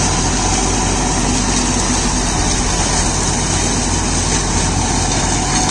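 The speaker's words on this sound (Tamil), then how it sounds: "John டீரில் 5310 black engine 4-wheel drive டிராக்டரோட பிடிஓ பெர்ஃபார்மன்ஸ் வந்து பார்க்க போகிறோம்" A John Deere 5310 four-wheel-drive tractor with about 30,000 hours on it runs a Shaktiman PTO-driven shredder for crop waste, the engine and machinery roaring loud and steady throughout with no letup.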